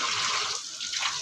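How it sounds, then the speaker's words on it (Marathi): Water runs steadily from a household tap into a sink as a plate is washed, a continuous close splashing stream that briefly thins midway before returning at full strength. "बंद कर आता पाणी"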